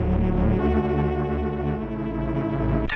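Aparillo synth patch with heavy detune holds a thick, buzzing, wavering chord, the detuned layers beating against each other in a steady, loud drone with no voices.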